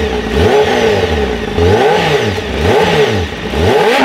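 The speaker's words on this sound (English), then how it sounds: "we have to hear what it sounds like stock so you guys get a baseline" A 2021 Honda CBR Fireblade with its stock exhaust revs repeatedly up close, the engine note rising and falling in about four quick throttle blips over a steady idle.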